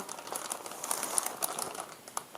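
Continuous crinkling and crackling of plastic packaging up close, with irregular sharp rustles and no voices.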